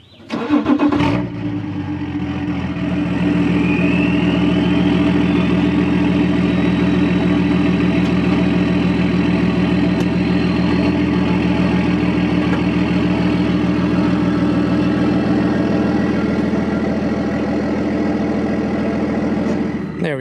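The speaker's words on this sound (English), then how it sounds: "If you know anything about diesels, you know they will clatter and they will kind of complain if they haven't been started in a while" A diesel car engine that has sat unused for a long while cranks briefly, catches and settles into a steady, loud clattering idle that runs on evenly close by.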